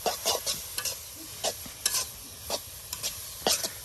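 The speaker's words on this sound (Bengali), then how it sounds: "শাকটা এখন তেলের সাথে মিক্স করে দেওয়া হচ্ছে" A mix of five leafy greens with onions and chillies is stirred through hot oil, a low steady sizzle punctuated by a run of sharp, irregular spatula scrapes against the pan.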